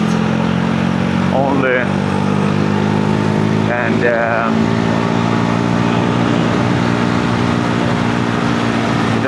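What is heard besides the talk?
motorcycle engine and exhaust while riding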